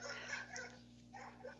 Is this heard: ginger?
no